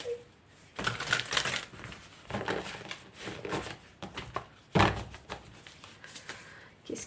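Tarot cards being shuffled and drawn during a reading: a series of papery flicks, riffles and soft taps, close and irregular, with brief pauses between bursts.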